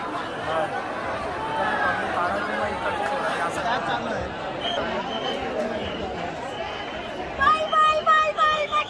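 Crowd chatter at the Ekvira temple fair, a dense babble of many voices close around, with a louder burst of nearby voices near the end.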